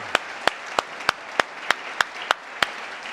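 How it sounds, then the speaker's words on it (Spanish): A church congregation clapping, heard as nine or ten evenly spaced sharp claps in a slow steady rhythm, fairly close and distinct rather than a dense crowd roar. "Hermanos, denle ese aplauso con todo el corazón"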